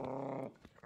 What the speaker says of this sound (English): dog's got something.